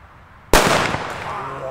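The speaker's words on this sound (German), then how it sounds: "Jetzt knallt es auch schon." A Funke friction-head firecracker explodes with a single sharp, loud bang after a quiet moment, followed by a short fading echo outdoors.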